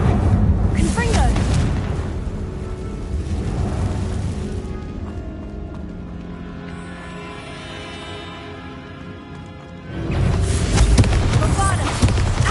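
Confringo spell blasts in the Hogwarts Legacy video game, heavy booming explosions with rumbling tails, loud at the start and again near the end, with a steadier roar in between.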